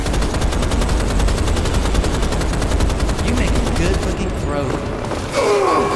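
Rapid automatic gunfire rattles almost without pause while a boss is shot in the Rise of the Triad video game, loud and close, with a brief break near the end and a voice talking over it.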